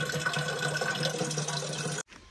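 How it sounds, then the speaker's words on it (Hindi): Water from a mountain spring pouring steadily into a metal water pot, a dense close splashing rush that runs unbroken for about two seconds, then cuts off abruptly into near silence. "चलो भाई पानी वगैरह भर लिया है"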